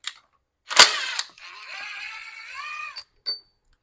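A ratchet works on the supercharger intake housing of a 2016 Jaguar, with a short mechanical rasp followed by a longer creaking, whirring stretch and a final brief click, close and fairly quiet.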